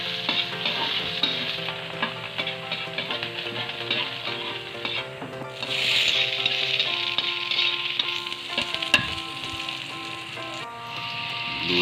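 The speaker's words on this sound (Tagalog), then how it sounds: "doon po sa pinagprituhan ay doon na rin po natin igisa yung ating bawang" Garlic sautéing in leftover frying oil for chicken binagoongan: a continuous crackling sizzle close by, broken by repeated stirring scrapes, with a louder burst of spitting near the middle.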